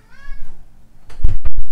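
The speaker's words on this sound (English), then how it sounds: "Here's my cat again." A pet cat meows with rising and falling harmonic cries early on, followed by louder bumps and rustles nearby, with no talk over it.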